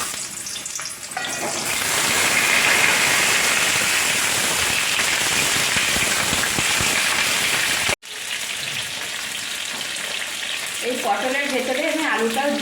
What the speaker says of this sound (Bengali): তেল গরম হয়ে গেছে প্রথমে পটলটা ভেজে নিচ্ছি